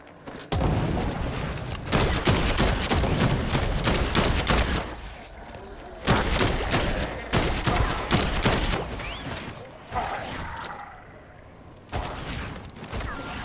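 Rapid gunfire bursts at a battery in Dead Island 2, loud bursts of close automatic shots in several long runs separated by brief pauses.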